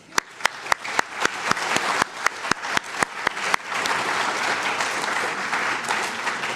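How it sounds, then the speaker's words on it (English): A group of people claps, starting with a few sharp, evenly spaced hand claps before swelling into steady, dense applause. "I need you guys to clap for a moment"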